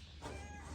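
A cat on a family farm gives a single short, faint meow.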